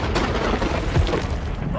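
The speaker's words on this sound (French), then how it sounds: "Cette explosion, c'est toi?" A loud, booming explosion from a Hot Wheels Monster Trucks animated cartoon, a dense rumbling blast that fills the whole short moment with heavy low-end roar and crackling debris, with a voice faintly mixed underneath.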